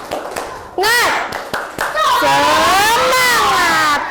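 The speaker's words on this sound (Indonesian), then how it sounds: "Sekali lagi tepuk semangat." Young pupils in a classroom do the 'tepuk semangat' clapping chant, a few sharp rhythmic claps followed by loud, drawn-out shouting in unison.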